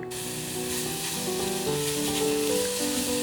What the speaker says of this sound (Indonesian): kita harus tetap aduk terus hingga gulanya mencair dan strawberry-nya mendidih